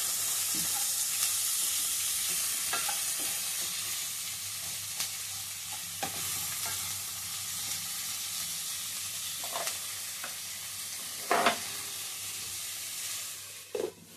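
Onions and vegetables cooking in a pan with salt added, giving a soft, steady sizzle and hiss at close range, broken by a few sharp spoon-against-pan scrapes and taps, with no voices.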